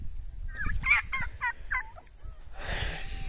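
A quick run of domestic village turkey gobbles, several rattling calls close together, followed by a burst of broadband noise from the surroundings.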